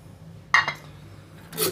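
Two brief metallic clinks a second apart as a camping cookware pot lid is handled, close by over a faint steady hum.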